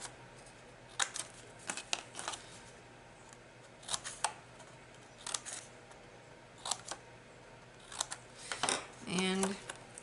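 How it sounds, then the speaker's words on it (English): Scissors snip through paper in short repeated crisp cuts, close and clear, with a slight rustle of the paper between strokes. "now we're just going to cut in"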